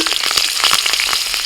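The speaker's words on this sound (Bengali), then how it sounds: "এখন তেলের মধ্যে ফোড়নে দিচ্ছি কালো জিরে" Nigella seeds and slit green chilies hit hot oil for tempering in a Bengali kitchen, producing a loud, dense crackling sizzle with sharp spattering pops throughout the short burst.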